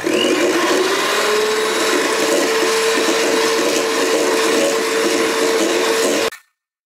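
An electric mixer whips butter cream in a mixing bowl for lemon cake. It runs as one loud, steady whir with a constant pitch and stops abruptly at the end.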